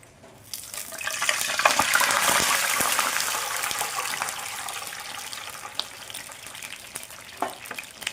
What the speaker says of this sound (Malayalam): നമുക്ക് ഇതിലേക്ക് വെള്ളം ഒഴിച്ച് കൊടുക്കാം